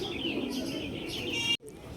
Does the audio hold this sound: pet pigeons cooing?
yes